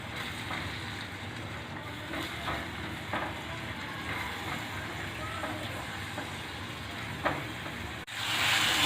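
Tomato puree frying on a medium flame for a spicy bottle gourd and urad badi curry, a steady close sizzle running throughout with small stir clicks and a sudden shift near the end.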